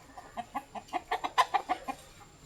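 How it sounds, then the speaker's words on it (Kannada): A chicken clucks in a rapid, rhythmic series of about a dozen short calls, close and fairly clear over a quiet outdoor background, with no speech. "ಕೋಳಿ ಇಲ್ವಾ ಇಲ್ಲಿ?"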